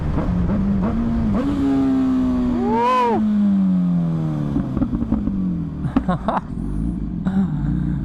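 A Superveloce 1000 Italian supercar engine revs up sharply and then falls away in a single loud pass, with people talking before and after it.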